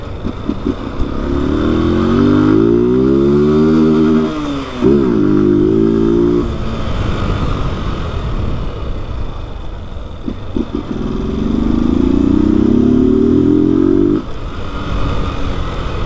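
A Honda Fan 160 motorcycle with a cam, a jet and an unfiltered original exhaust, close and loud, revving up hard twice with rising engine pitch, settling into a rough idle between and after the revs.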